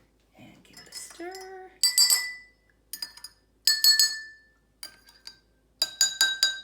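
Water glass xylophone struck in a handful of separate ringing clinks, bright sustained tones decaying after each hit, close and clear, with a voice briefly speaking at the start.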